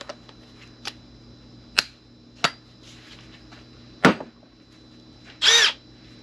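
A DeWalt battery power tool gives a series of sharp clicks and taps spaced a second or so apart, then a short, loud burst of whirring near the end.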